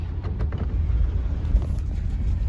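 A 1986 Chevrolet Caprice Brougham rolls along under its own power, a low, muffled engine rumble with some wind and road noise, fairly steady and without speech.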